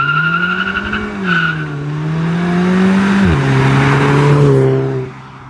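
Volkswagen Scirocco doing a launch-control 0 to 60 acceleration: the engine revs climb steadily, drop sharply at a gear change and then rise again, with tyre skid noise over it before the sound cuts off near the end.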